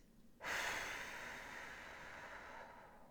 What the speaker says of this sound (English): then you're going to release through your mouth for 5 seconds